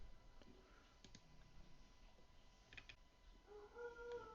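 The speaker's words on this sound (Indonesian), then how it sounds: "coba kita klik ya" Faint computer mouse clicks sound at intervals, a few sharp isolated ticks over a quiet room background.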